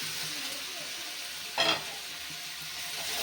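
Boiled potatoes sizzle in a pan with tomato, ginger, salt and turmeric, a soft steady hiss with one brief louder crackle midway, no talking.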